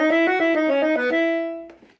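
A single bar on a reed instrument fitted with a default reed chosen to blend with clarinet: a short legato run of clear, close notes ending on a held tone that fades out.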